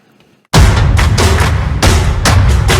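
Punchy, heavily layered trap drum samples start after a half-second of near silence, with booming low kicks and sharp cracking hits repeating in a steady beat.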